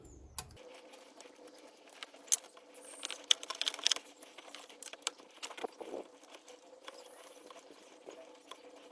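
Ratchet with a 7mm socket clicking as it slackens Jubilee hose clips on a Ford Mondeo Mk3 ST220 during a thermostat and water pump job; quick light clicks and small metallic rattles, close and fairly quiet, with no talk.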